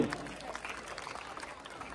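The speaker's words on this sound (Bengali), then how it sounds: "অভিনন্দন শুভেচ্ছা জ্ঞাপন করছি, হাততালি হবে" Applause from the audience at a school prize-giving ceremony where students ranked first to third receive awards: a faint, steady patter of many hands clapping, heard from a distance and never breaking.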